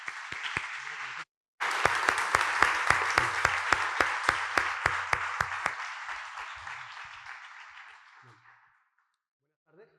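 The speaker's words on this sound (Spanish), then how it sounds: "un aplauso para Antonio, por favor" Audience applause at a public talk on long-term cancer survivors, a sustained burst of clapping from a crowd that swells after a brief gap, holds steady, then gradually thins and fades out.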